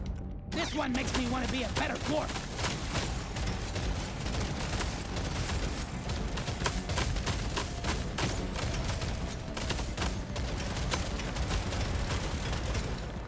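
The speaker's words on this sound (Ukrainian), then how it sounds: "І лозу розбиваємо." Vines being broken apart in Deep Rock Galactic: Survivor: a steady, busy stream of rapid weapon fire and crunching impacts runs for the whole stretch, with a short spoken voice at the start.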